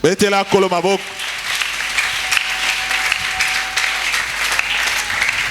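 A church congregation breaks into sustained applause and cheering for the Lord after a brief spoken phrase, a dense, steady wash of many clapping hands and voices filling the room at close range.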